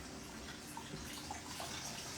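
Water runs over a lobster as it is rinsed clean, a faint, steady splashing and trickling with light spatters, recorded up close at low volume with no one talking.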